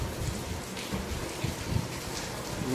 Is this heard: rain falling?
yes